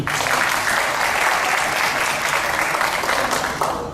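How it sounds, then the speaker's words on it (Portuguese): Dense, steady applause from an audience at a Bible institute class in Natal, Brazil, filling the whole stretch at close range with no talk over it, easing slightly at the very end. "Salve de palmas para o Líbina."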